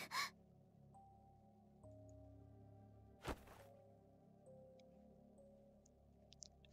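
A foot stomps on a floor in the visual novel ChäoS;Child: one sharp thud partway through, preceded by a quick gasp and set against faint, quiet background tones.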